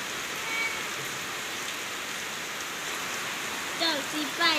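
Heavy rain falls steadily outside a house, a dense, continuous close roar of drops with no letup, joined near the end by brief voiced sounds.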